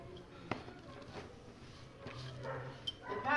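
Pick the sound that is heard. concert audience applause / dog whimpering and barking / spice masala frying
dog whimpering and barking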